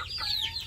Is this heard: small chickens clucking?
yes